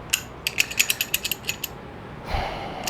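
Torque wrench ratcheting while tightening a bolt on an R53 engine head job, a quick run of crisp metallic clicks, close and isolated, then a brief rustle.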